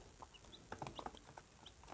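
Young Golden Misri and Aseel chicken chicks give faint, high cheeps in short scattered bursts, a handful of peeps clustered toward the middle, heard close but quietly with no talking.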